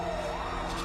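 An ambulance siren wails faintly under a steady rushing background, with a brief rising and falling electronic tone over less than a second.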